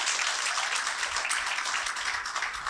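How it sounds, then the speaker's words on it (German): Church congregation applause welcoming their pastor, a thick, steady wash of many hands clapping at once, sustained and fairly loud throughout. "lasst uns unseren Pastor, der im Ausland ist, mit einem kräftigen Applaus begrüßen"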